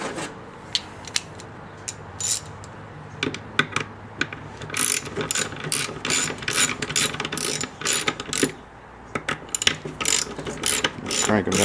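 A hand ratchet tightens bolts during a car air intake install, giving quick bursts of clicking pawl strokes close up, repeated in uneven runs with short pauses between them.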